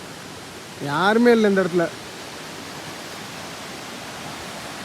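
Steady broadband rush of a little-known waterfall in a quiet forest, running evenly the whole time, with someone speaking briefly over it near the start.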